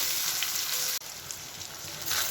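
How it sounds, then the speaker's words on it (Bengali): Chopped onion frying in hot oil for ghugni, a steady close sizzle with brief stirring scrapes and a sharp momentary drop near one second before the hiss swells again. "এবার পেঁয়াজ কুচি দিয়ে দিলাম। পেঁয়াজটা নরম হওয়া পর্যন্ত আমি তেলের মধ্যে নাড়তে থাকবো।"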